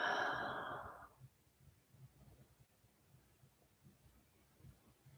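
A slow, audible exhale during meditation, breathy and close, fading out over about a second, then quiet room tone with faint low thumps.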